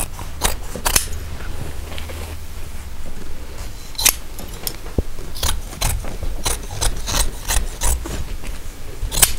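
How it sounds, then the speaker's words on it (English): Scissors snip through excess upholstery fabric in a string of sharp, close cuts, irregular in rhythm, with rustling and rubbing of the cloth between snips. "So I'm just trimming off some of the excess just to get it out of my way"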